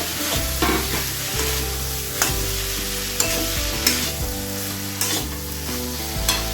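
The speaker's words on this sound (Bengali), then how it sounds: "এখন আমি দিয়ে দেবো ভেজে রাখা আলু, কচু আর সয়াবিন দিয়ে এখন আমি ভালো করে কষিয়ে নেব" Potato, taro and soybean chunks are stir-fried in spices, with a steady sizzle of oil under repeated scraping and clacking of a spatula against the pan, and no talk.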